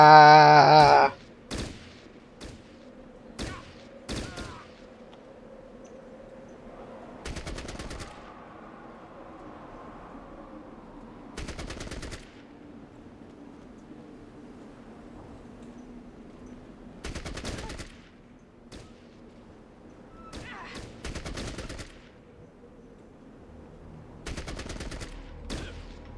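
Bursts of AK-47 automatic fire in the video game Fallout Tactics crackle out in short clusters, loud spikes spread over a quiet background hum.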